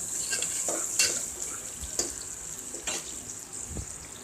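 Onions and slit green chilies sautéing in a pot, with a spoon scraping and clinking against the metal in a few distinct strokes over a soft, steady sizzle.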